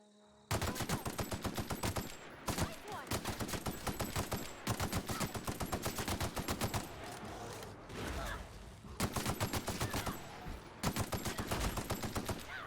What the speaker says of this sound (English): I just toss a grenade in there.